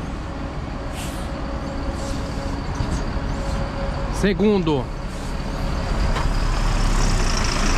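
Intercity bus number 732 running Caruaru to Recife at the Recife bus station: steady loud engine rumble with a brief hissing air-brake squeal midway, people talking over the noise.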